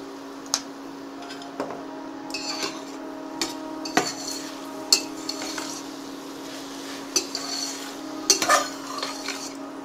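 Spinach and potato are mixed with salt in a pan, the metal spoon giving scattered clinks and scrapes against the pan at an irregular pace over a steady background hum, close up, with no talking.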